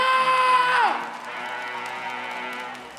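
Crowd at a Brazilian freestyle rap battle shouting and cheering loudly and steadily, a sustained roar of many voices with a whistle-like tone fading early.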